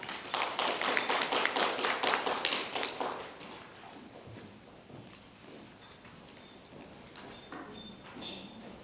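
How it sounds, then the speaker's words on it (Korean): Audience clapping at a high school club presentation event, a brief burst of fairly close applause for about three seconds that quickly thins to a few scattered taps and room noise. "여러분 박수 부탁드립니다."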